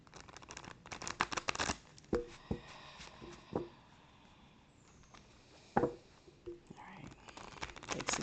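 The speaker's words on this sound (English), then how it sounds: "Shuffling the cards." Tarot cards are shuffled by hand in a series of soft riffling and tapping bursts, close and fairly quiet, with pauses between shuffles.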